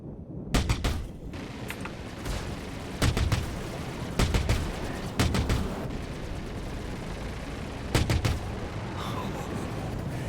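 Ship turret fire in Star Citizen sounds as sharp, loud bursts of rapid gunfire: a volley near the start, two more clusters in the middle and another late, with quieter background between.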